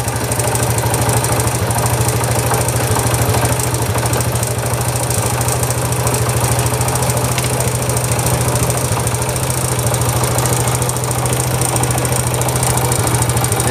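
A Honda Wave 100 motorcycle engine idles steadily up close, with a constant low rumble and a persistent knocking tick running throughout, no voices.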